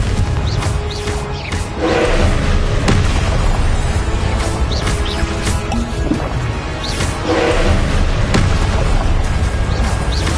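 Repeated Confringo fire-spell blasts in Hogwarts Legacy, a series of loud booming bursts spaced a few seconds apart over dense, constant game ambience, with no talking.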